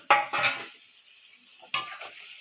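Poppy seed and cumin-chilli paste sautéing in a pan with stirring, a few short scraping sizzles separated by quiet gaps, close by.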